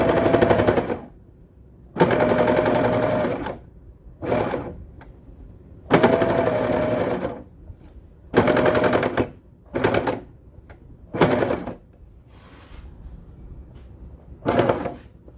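A Simplicity felting machine needle-felts a felt star ornament in loud rapid mechanical bursts of a second or so each, separated by short pauses, with no talking.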